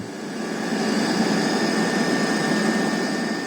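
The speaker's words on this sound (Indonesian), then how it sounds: "melakukan pemantauan via udara menggunakan heli Super Puma milik Angkatan Udara" An Air Force Super Puma helicopter flies over the sea on a search, giving a steady, broad engine and rotor roar that holds at a constant loud level for the whole stretch with no voices.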